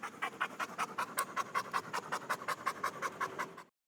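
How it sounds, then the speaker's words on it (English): A dog pants rapidly and rhythmically, with around twenty quick, breathy huffs in an even pulse. It is close and moderately soft, and it stops abruptly at the end. "If you have a dog, you know what they do is they pant."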